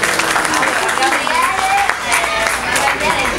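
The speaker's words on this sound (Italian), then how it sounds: "Prego, un applauso a Gabriele." An audience at a chocolate cooking show applauds a pastry chef, clapping steadily and fairly loudly throughout while a presenter keeps talking over it.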